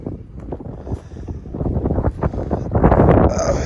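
Gusty wind buffets a microphone outdoors beside an old wartime pillbox on a former airfield, a loud, continuous low rumble that swells and grows stronger toward the end, with no other sounds standing out.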